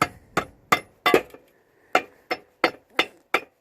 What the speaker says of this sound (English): get your hammer similar to that, or a scutch hammer